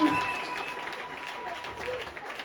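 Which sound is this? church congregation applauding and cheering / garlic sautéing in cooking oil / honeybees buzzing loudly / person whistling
church congregation applauding and cheering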